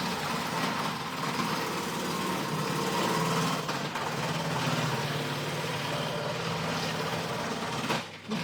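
An electric grater-slicer runs with a steady, continuous high motor whine as thick-grated carrot is fed through, the drone staying even and fairly loud until it cuts out near the end.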